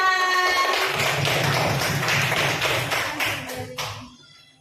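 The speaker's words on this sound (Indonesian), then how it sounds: "tepuk tangan untuk kelompoknya Mas Rehan" Classmates in a classroom clap for a student presentation group, a brisk burst of close hand claps that thins out over a few seconds, with a voice briefly audible at the start.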